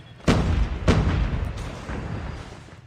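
Grenade blast in the Call of Duty: Mobile video game, a sharp booming hit followed quickly by a second loud burst, then a lingering rumble of gunfire and battle noise.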